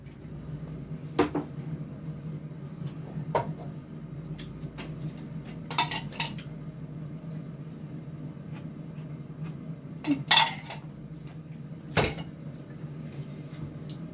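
A spoon and dishes being handled after baking cauliflower cheese, with a few scattered clinks and scrapes of metal on a baking dish, faint against a steady kitchen hum and no talking.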